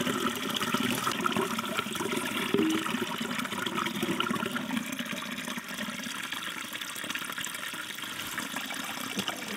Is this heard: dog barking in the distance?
no